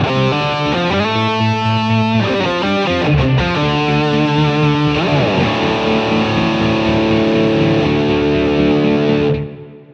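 Sustained electric guitar tones heavily processed through a BOSS SY-200 synth pedal, layered with an arpeggiated sequence and bass line, loud and continuous before cutting off at the end.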